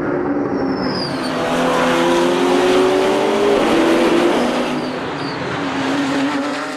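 Racing engines roar and climb in pitch as several cars, including a Porsche, accelerate close by at the start of a race at Ledenon, with rising whines sweeping past.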